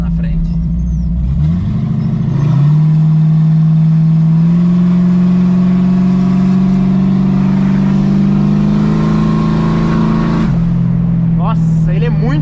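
A Chevrolet Chevette fitted with a V8 engine accelerates hard from close by, its loud, deep exhaust note climbing through the revs in one sustained pull before easing off near the end, with brief voices at the edges.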